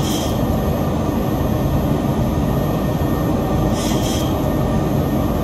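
Boeing 737 MAX 8 jet landing in X-Plane 11, a loud continuous low engine and airframe rumble with steady roar, plus a brief hissing burst midway, no talk.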